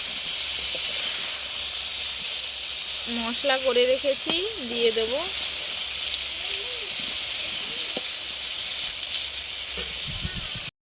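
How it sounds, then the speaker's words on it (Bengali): Pointed gourd and potato frying in a pan outdoors on a breezy day, with a steady broadband sizzle running throughout under a voice. "এখানে পটল আর আলু ভাজছি"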